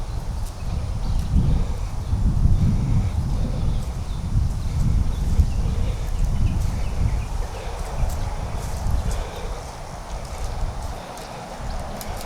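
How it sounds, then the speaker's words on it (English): Steady wind gusting across an open rural roadside in Texas, a broad low rumble that swells and eases over the whole stretch, with faint rustling and occasional distant traffic underneath. "It's kind of windy out here"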